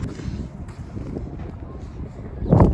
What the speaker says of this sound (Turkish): Çünkü hava çok rüzgarlı.